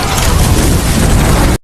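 A gas canister and bomb blow up inside a refrigerator in a film scene: a loud, sustained roaring blast with dense rumble that fills the clip, then cuts off abruptly near the end.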